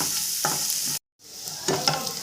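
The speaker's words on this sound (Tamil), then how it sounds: "பொன்னிறமாக வதக்கிடுங்க" Garlic and curry leaves sautéing in a pan, a close crackling sizzle with scraping stirs, briefly interrupted by a moment of silence before the frying resumes.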